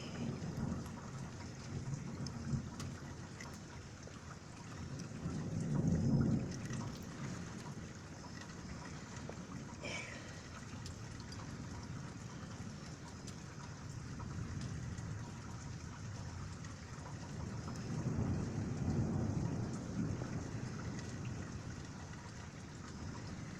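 A severe thunderstorm with heavy rain gives off a steady broad hiss, while two deep rolling rumbles of thunder swell up, one near the start and one toward the end.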